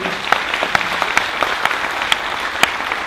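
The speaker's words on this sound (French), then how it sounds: "que je vous demande d'applaudir" Steady audience applause at a talk on journalism, a dense, moderate wash of clapping with a few sharper individual claps standing out.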